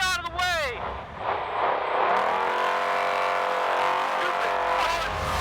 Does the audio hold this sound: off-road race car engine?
yes